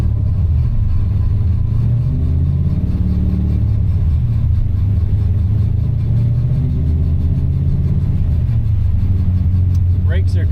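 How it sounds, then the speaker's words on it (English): An LS-swapped Mazda RX-7 engine hums and rumbles steadily under load on a dyno, with the pitch shifting slightly as it runs, and faint speech can be heard. "Let's start rolling it on the dyno"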